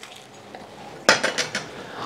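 A knife chops green chilies on a board for kabab chutney. After a quiet start, a sharp close cut lands, followed by a few quicker, lighter chops and knocks, with no voices.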